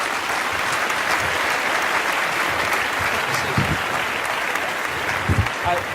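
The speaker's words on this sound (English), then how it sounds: "Good round of applause for Louis Gump" At a media awards ceremony, a crowd keeps clapping loudly for an award winner from CNN, a dense continuous roar of hands with a few sharper thumps and indistinct voices underneath.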